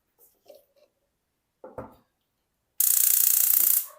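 A stove for cooking brigadeiro filling is switched on: a few faint handling clicks and knocks, then a loud burst of rapid ticking and hiss that holds for about a second.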